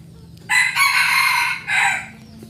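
A wild jungle rooster crows loud and close, one long strained call followed by a shorter second burst, with no other sound around it.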